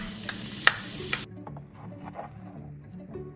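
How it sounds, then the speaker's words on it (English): Chopped red onion sizzles in hot oil in a curry pot, a bright close crackle with a few stirring clacks that stops abruptly after about a second, leaving a quiet room. "let's start by sauteing about 1 cup of chopped red onion in the"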